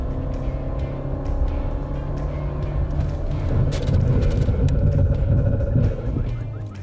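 A car in third gear approaches a braking exercise on a defensive and evasive driving course, its engine a steady, loud rumble that holds throughout without talk.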